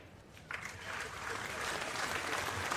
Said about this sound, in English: This will give the fans something to clap at.